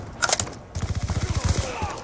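Gunfire in an online shooter game: a few sharp shots open, then a rapid automatic burst of evenly spaced rounds follows, loud and close, with players talking.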